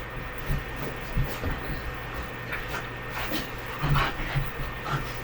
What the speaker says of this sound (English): So if you hear my dog in the background